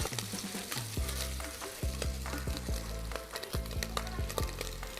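Carbonara ingredients stir-fried in a pan, a steady sizzle with a spatula repeatedly scraping and clanking against the metal in an uneven rhythm, close and fairly quiet, with no talking.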